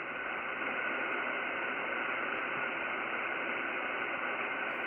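Steady broadband hiss from a ham radio receiver, constant and fairly loud with a faint hum beneath, running unbroken with no voices.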